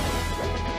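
A down smash lands in a Super Smash Bros. Melee tournament match, a single loud crashing hit in a busy game soundscape.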